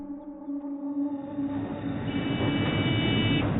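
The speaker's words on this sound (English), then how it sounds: "An alarm of some kind? This? It's the horn." A lorry horn in an audio drama: a steady droning, buzzy tone that grows louder and harsher while rumbling noise rises beneath it, with a higher tone joining near the end.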